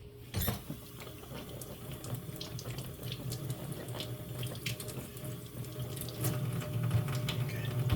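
Vegetables for a cabbage, celery and tomato soup being washed under a running kitchen tap, a steady close rush of water splashing into the sink throughout, with no talking.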